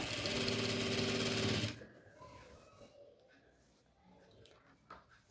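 A sewing machine stitches chudithar top lining in one loud, fast continuous run lasting under two seconds, then stops, leaving faint handling noises and quiet room sound.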